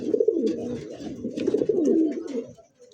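Pigeons in a loft coo in soft, throaty, overlapping rolls that are close and continuous, then taper off into a brief pause at the end.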